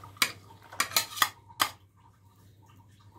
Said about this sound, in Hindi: अब हम इसमें कटा हुआ सारे सामान को मिक्स कर देंगे, जो हमने पहले से काट के रखे थे।